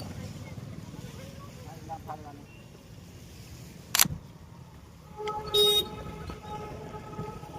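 Street traffic in Junagadh rumbles along, with a sharp click and then a brief, clear car horn blast over a steady engine hum while people talk in the foreground.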